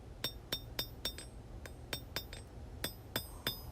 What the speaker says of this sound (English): so we're going to hammer this in pretty deep.